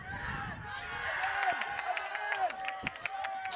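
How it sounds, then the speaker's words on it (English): Crowd at a women's college soccer championship semifinal, with schoolmates on their feet, raising a steady roar of cheering, shouting and scattered clapping throughout, swelling in bursts. "a big cheer every time the ball goes out of play"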